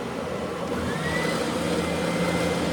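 A handheld sander switched on with dust collection attached produces a steady, loud whirring roar, close and continuous, with a faint higher whine rising briefly over it.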